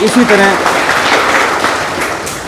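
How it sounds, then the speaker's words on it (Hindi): Audience at an honoring ceremony applauds in a steady, dense wash of clapping with voices mixed in throughout. "हम सब मिलकर जोरदार तालियां मांगीलाल जी के लिए"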